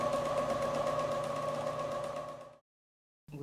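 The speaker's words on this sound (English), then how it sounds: "now I'm going to sew the sashing strip to 1 inch of the wide strip" Sewing machine stitching a quilt sashing strip, a steady droning whir running for about two and a half seconds before stopping abruptly, then briefly starting again.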